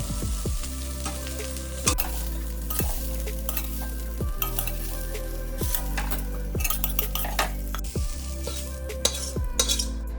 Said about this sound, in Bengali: থোর ভাজা আমার